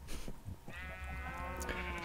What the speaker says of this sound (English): I've brought our friendly mobs down here, our cows from over there by our base entrance, and our sheep